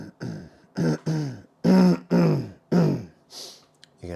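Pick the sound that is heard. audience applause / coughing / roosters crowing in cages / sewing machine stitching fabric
coughing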